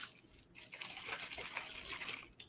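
Unsweetened drink additive squirted into a bottle of still water, a soft hissing, splashing liquid stream lasting a couple of seconds, faint and close with no talking.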